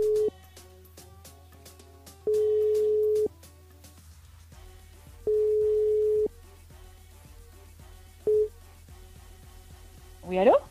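Telephone line tones in a radio broadcast: a low dial hum, then three long ring-back tones separated by pauses and a short fourth one as a call is placed to a listener, with a voice briefly answering at the end.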